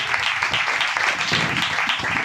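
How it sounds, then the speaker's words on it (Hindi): A church congregation claps loudly and continuously during a worship service, a dense, steady wash of applause with no talk over it. "जोरदार ताली बजाइए"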